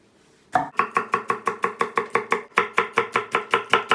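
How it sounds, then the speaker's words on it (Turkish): A knife chops red pepper rapidly and evenly on a cutting board, steady rhythmic strikes about four per second, close and clear with no talking. "Elimizde varsa bir tane de kırmızı biber doğrayacağız"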